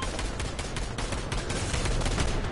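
Rapid gunfire in the Fortnite video game, a dense burst of repeated shots crackling loudly and continuously for a couple of seconds with no talk over it.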